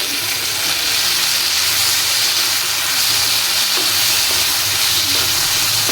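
Vegetables and flower blossoms sizzle steadily as they are sautéed in a pan for a quick vegetable fry, a loud continuous hiss with no talk.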